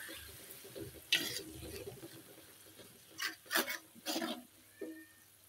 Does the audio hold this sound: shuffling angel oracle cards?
no